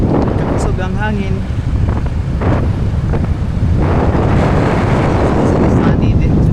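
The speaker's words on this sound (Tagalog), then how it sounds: "Kapusog ang hangin." Strong wind roars steadily against the microphone during a ham radio tower and antenna installation, a continuous loud rumble and buffet, with brief voices and faint engine-like tones briefly audible beneath it.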